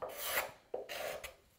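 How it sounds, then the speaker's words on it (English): A coarse hand rasp shapes and fairs a curved wooden edge: two long, close scraping strokes, each a gritty rasping pass, with a short gap between them and no talk. "use a shaping tool, a rougher, coarser rasp, to shape it back to the line, to fair that curve"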